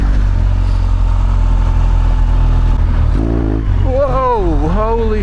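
BMW R1200GSA adventure motorcycle ridden off-road, a loud continuous engine drone that swells into rising and falling revs as the front wheel lifts, close to the rider, with wind roar and a voice over it.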